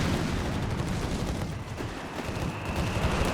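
Rifle gunfire and battle noise in the Company of Heroes 3 real-time strategy game, a dense, rumbling barrage of shots and blasts heard continuously over a few seconds.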